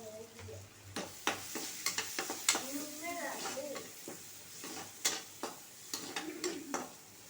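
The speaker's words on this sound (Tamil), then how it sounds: "வெங்காயம் நல்லா வதங்கட்டும்" Two large onions fry in hot oil in a kadai as a spoon stirs them in uneven scraping strokes and taps over a soft sizzle, with faint vocal sounds in the background.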